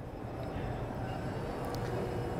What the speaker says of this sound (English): There's a water pump and an oil pump.